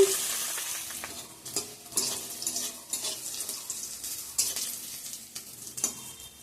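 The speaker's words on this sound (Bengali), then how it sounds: "আমি এখানে পেঁয়াজ রসুন তেজপাতা আর জিরা ফোড়ন দিয়ে দিছি" Onion, garlic, bay leaf and cumin fry in hot oil with a close, crackling sizzle, broken by repeated scraping strokes of a spatula stirring the pan, no one speaking.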